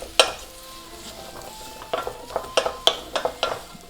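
Mushrooms cook in melted butter while a utensil stirs them, a quiet soft sizzle under a series of sharp clinks and scrapes against the pan that cluster toward the end, no speech.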